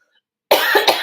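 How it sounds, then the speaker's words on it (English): Two or three quick, harsh coughs from one person at close range, abrupt after silence. "I don't know why I'm coughing so much"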